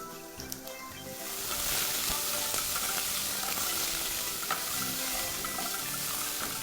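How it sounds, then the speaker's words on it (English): Chopped tomatoes drop into a hot pan of fried onions with ginger and garlic paste, setting off a loud, steady sizzle that continues as the mix is stirred, with occasional utensil taps. "Now I'm going to add my chopped tomatoes."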